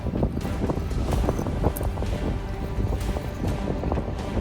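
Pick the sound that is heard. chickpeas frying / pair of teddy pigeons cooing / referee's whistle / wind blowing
wind blowing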